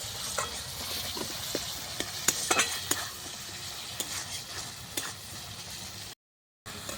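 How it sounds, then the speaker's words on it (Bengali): Spice masala for prawn curry sizzles steadily in oil on a clay stove while a utensil stirs it, adding scattered scrapes and clicks; there is a brief dropout near the end. "এবার ভালো করে আরেকবার নেড়ে দেবো"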